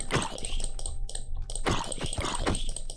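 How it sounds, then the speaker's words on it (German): A dog in the game Minecraft barks and whimpers in short bursts near the start and again later, close and clear, with a few faint clicks between, no talk. "Alter, der Hund!"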